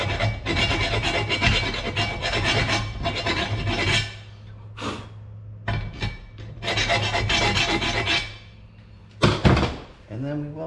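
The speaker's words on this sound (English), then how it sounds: "I get a file and then just go and clean up the edges" Metal file rasping along the cut edges of a Suzuki Samurai part during a suspension build, steady rough strokes in two long stretches with a few short scrapes and knocks between, fairly close.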